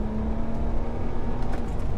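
A tuned 370 bhp BMW 335d diesel accelerating, heard as a steady, close engine drone with a sustained low hum and little exhaust noise, with no talking.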